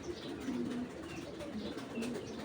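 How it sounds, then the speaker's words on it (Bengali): Pigeon cooing from a Bezi-breed racing homer hen, soft low repeated coos close by with faint chirps behind, no talk. "এটা বুড়া জাতের বেজি কবুতর"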